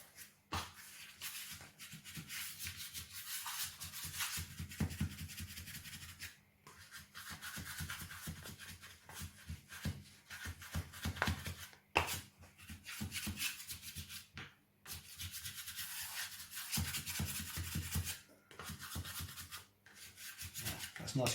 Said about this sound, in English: I'm going to use the scraper and the thickness of the dough together to cause tension in this dough.